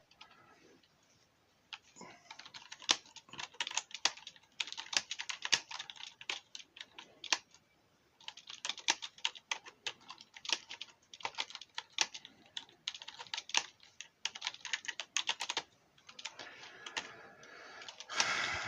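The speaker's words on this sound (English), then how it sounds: "here's a working area where I am typing now" Rapid clicking of keys on a computer keyboard, close and quiet, in bursts with short pauses between.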